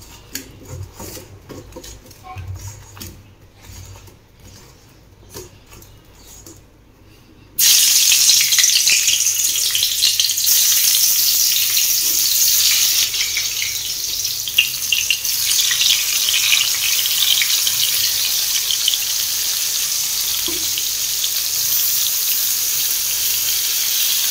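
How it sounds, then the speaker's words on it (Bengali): Brinjal pieces coated in salt and turmeric fry in a pan. A quiet stretch with faint clinks gives way to a loud, constant close-up sizzle that carries on steadily to the end. "আর এখানে আর এক খোলা ভাজা হচ্ছে"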